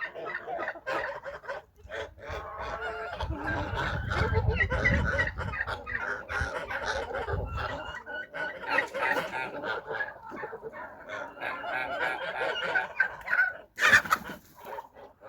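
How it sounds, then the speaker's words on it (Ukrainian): Chickens cluck and chatter while feeding around a trough near geese and ducks on a farmyard, a steady mix of close and distant clucks with some low rustling and shuffling in the middle stretch and a sharp noise near the end. "Кури їдять скрізь."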